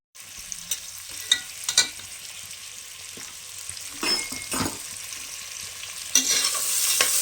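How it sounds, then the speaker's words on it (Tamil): Three hundred grams of onions sautéing in a pan for Bangalore-style veg biryani, giving a soft continuous sizzle with repeated stirring scrapes and clanks, close and without speech. "நல்லா கரெக்டாக வெங்காயம் கொஞ்சம் நல்லா வதங்கணும்"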